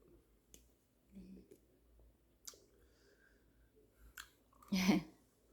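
Someone chews a piece of kelp from ramen noodle soup with garlic chives, making faint, soft, wet chewing and clicking sounds close to the microphone, ending in a louder squishy bite.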